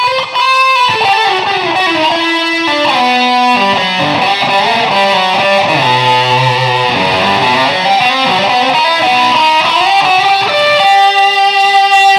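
A distorted electric guitar played through a Line 6 Spider V 240HC stereo guitar head solos with sustained notes and slides, a wash of reverb trailing behind each phrase and blurring the notes together.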